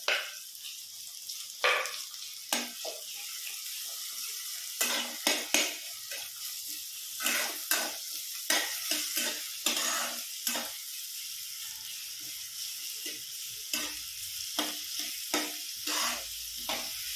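Finely chopped onion sizzles in a hot pan while being stirred, a steady frying hiss punctuated by frequent sharp clinks and scrapes of a spoon against the pan.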